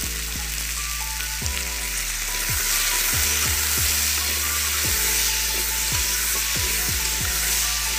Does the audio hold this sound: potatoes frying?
yes